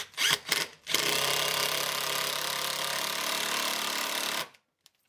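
A cordless 10.8-volt impact driver drives a screw into wood in a woodworking shop, giving a loud, steady mechanical rattle of rapid impacts for about three and a half seconds before stopping abruptly, with a few faint knocks after.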